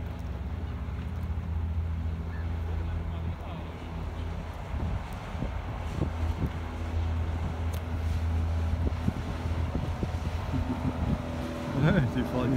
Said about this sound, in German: So, und hier kommt jetzt ein Motorboot.